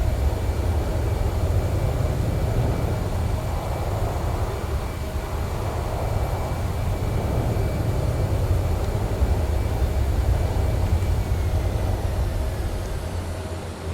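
Airliner jet engines at high thrust in Microsoft Flight Simulator, an Eastern Airways flight at Gatwick in windy, low-visibility conditions: a loud, steady, broadband roar with a deep low rumble and a faint high whine, holding constant throughout with no talk.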